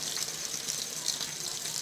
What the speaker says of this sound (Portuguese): Agora eu vou colocar o restante dos 5 litros de água quente.